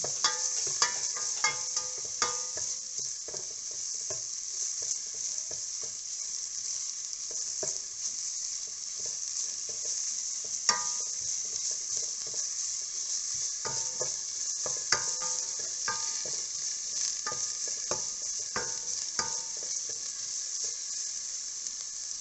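Onions frying in ghee for ghee rice, stirred in the pot: a steady close hiss of sizzling throughout, punctuated by irregular clinks and scrapes of the spoon against the vessel, with no talking.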